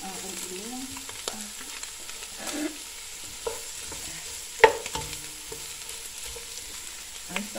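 Onion and garlic frying in cooking oil in a pan, a soft, quiet sizzle with occasional sharp clinks and scrapes of a utensil stirring, heard close up with no voices.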